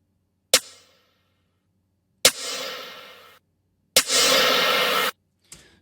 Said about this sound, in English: we're going to look at a snare in different phases of compression on the snare